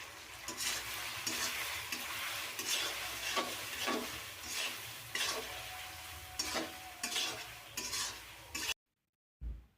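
Chopped ginger frying with two mixed sauces in a pan for cauliflower chilli, a steady sizzle broken by repeated rhythmic stirring scrapes of a utensil, close up, ending in sudden silence.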